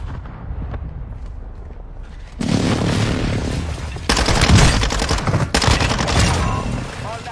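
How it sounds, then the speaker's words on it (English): Precision airstrike in Warzone: quiet rumble, then a sudden loud barrage of blasts and crackling detonations from about two seconds on, with further bursts stacking near the end. "Friendly precision airstrike inbound."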